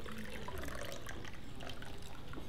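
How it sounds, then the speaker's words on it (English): A cranberry martini streams steadily into a glass, a soft continuous splashing pour heard close but fairly faint, with no voices over it. "So you've got a nice pour, got a little bit of frosting coming out on the glass"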